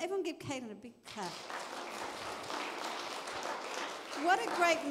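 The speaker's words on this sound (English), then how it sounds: "Everyone give Caitlin a big clap" A church congregation at a Salvation Army service breaks into applause after a brief spoken line, the clapping swelling to a steady mid-level patter before a voice rises again at the end.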